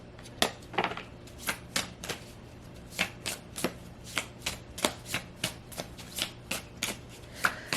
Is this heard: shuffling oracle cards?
yes